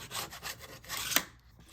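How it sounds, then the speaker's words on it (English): A file scoring LW-PLA-HT printed plastic on the underside of model aircraft tail-fin hinges, heard as a few quick, close rasping strokes, quiet and alone, with one sharper scrape near the end. "Score with a file on the bottom side to get the hinges ready to activate."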